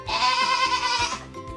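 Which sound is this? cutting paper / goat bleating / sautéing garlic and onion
goat bleating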